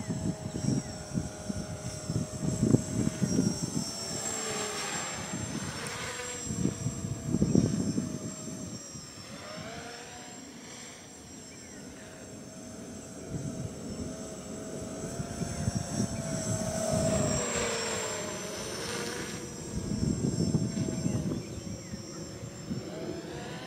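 A quadcopter drone without GPS flies near and then away, its propeller whine rising and falling over several passes and holding a steady high-pitched buzz throughout, with no voices.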